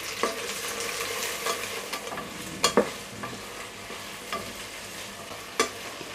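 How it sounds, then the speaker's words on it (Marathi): Chopped onion sautés in a pan for a spicy mutton dish, a soft continuous sizzle broken by sharp scrapes and clinks of a spoon stirring, close and with no talking. "कांदा आहे ना तो घालूया।"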